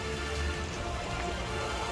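Heavy torrential rain pours steadily during flooding in Banaskantha, Gujarat, a dense continuous hiss of water hitting surfaces with no breaks or voices.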